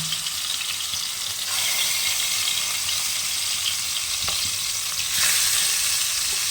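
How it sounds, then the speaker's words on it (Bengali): Salted katla fish fries in hot mustard oil, a loud continuous sizzle and crackle close up, with a brief rattle or shift of the pan midway and the spatter swelling again near the end. "মাছটায় নুন মেখে ভেজে নেব"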